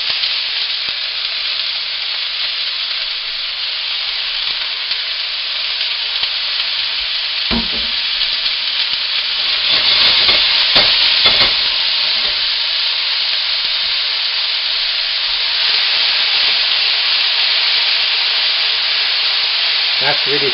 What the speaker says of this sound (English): I'm going to heat up some oil again. The pan is really hot now. We're going to start with our frozen vegetables.